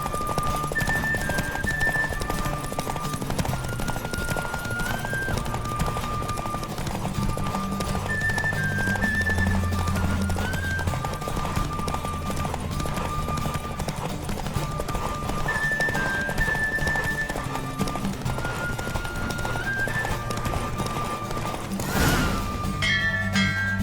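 A horse gallops in a race in The Witcher 3, hoofbeats clattering in a fast, continuous rhythm, with a whinny near the end and game music underneath.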